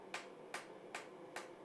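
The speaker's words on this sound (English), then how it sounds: "here I'm using a rounding hammer to begin the bevel on the inside" A 2-pound rounding hammer strikes steel four times at an even, unhurried pace, beveling the inside of a forged scroll; each sharp metallic blow rings out clearly over a quiet background with no talk.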